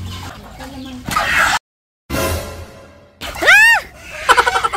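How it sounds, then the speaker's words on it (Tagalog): A native chicken clucks and squawks as it is caught, with rustling and a short silence mid-clip, ending in loud rising distressed squawks close by; people's voices are faintly present. "uhulihin na po yung kakataying manok"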